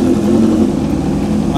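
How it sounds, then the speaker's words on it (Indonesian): A Kawasaki H2R motorcycle engine with its stock exhaust idles loudly and steadily up close, a constant low rumble with no voices. "Dan bacotnya gila banget, padahal ini knalpot ori."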